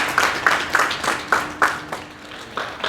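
Audience applause at a public e-receipt presentation in a shopping centre, with brisk rhythmic clapping from a modest crowd, close and steady for a few seconds.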